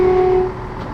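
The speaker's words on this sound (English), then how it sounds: "Push the lever to the left to sound the horn." A train horn in the Train Simulator 2017 game sounds as a steady, sustained single tone that holds for about half a second and then cuts off, leaving quieter cab rumble.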